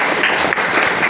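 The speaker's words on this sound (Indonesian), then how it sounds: "tepuk tangan dong" A short, close burst of applause from an audience at a school workshop at SMPN 20 Singkawang, a dense patter of many hands clapping at once.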